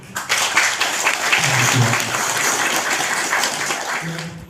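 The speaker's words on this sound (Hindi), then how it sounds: "धन्यवाद ताली दो" Crowd applause at an outdoor Christian pilgrimage gathering on a hill, a dense, steady wash of clapping that holds for several seconds, with faint voices in the background.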